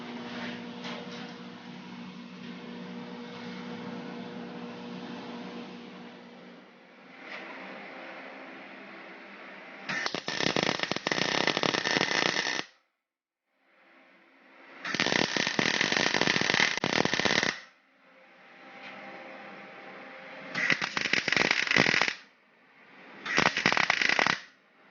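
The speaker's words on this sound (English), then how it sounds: "Everything is now mocked in place and it's ready to be tack welded." A car cross member frame being tack welded: several separate bursts of harsh crackling arc, each a second or two long, broken by short gaps, loud and close.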